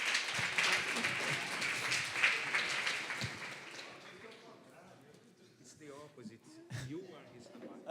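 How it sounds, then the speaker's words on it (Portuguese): A conference audience applauds for a rabbi, clapping that is loud at first and then thins and fades, followed by quieter room sounds and a little talk near the end. "Let's give applause for my rabbi."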